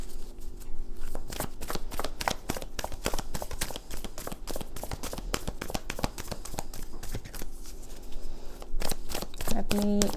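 Tarot cards are shuffled rapidly and continuously, giving a dense run of crisp, close riffling taps over a faint background.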